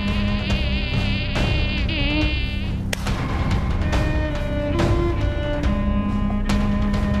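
Aedes mosquitoes, the striped-legged dengue carriers found in Malaysia, buzz in a steady, close, high-pitched whine that stays continuous with slight wavering in pitch.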